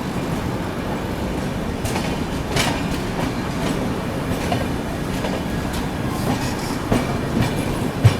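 The Jogbani Kolkata Express passes alongside on the adjacent track, a dense, continuous rumble of wheels and carriages with rhythmic clickety-clack, heard close and steady throughout.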